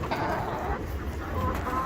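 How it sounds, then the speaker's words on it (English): Backyard chickens clucking softly in a sand-floored coop, a steady low murmur of fowl sounds with some wind noise throughout. "Got 10 chickens."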